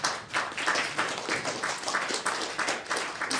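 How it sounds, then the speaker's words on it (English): An audience at a film Q&A applauds the co-writer, a room full of clapping with individual claps audible in an uneven, lively rhythm, moderately loud throughout. "Round of applause for Ian as well, everybody"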